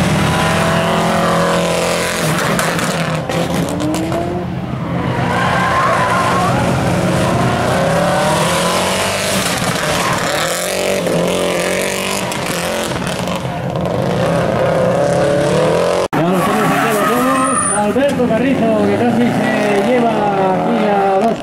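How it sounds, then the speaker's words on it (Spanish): A rally car at the 2014 Rallye Fórmula Príncipe de Asturias spins out on a left-hand curve and gets half stuck, its engine revving loud and close throughout, with a commentator talking over it. "Complicadillas a esa curva de izquierdas ahora y ese trompo que va a hacer imposible"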